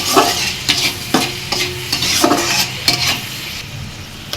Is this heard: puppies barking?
no